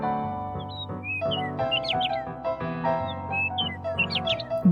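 Several birds chirp in short, high, repeated calls that come in scattered bursts over a sustained tonal musical backing, fairly close and clear.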